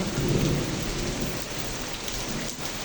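A heavy downpour drums on surfaces, a thick continuous wash of rain, fuller and louder in the first half-second before settling into a steady roar; no talking.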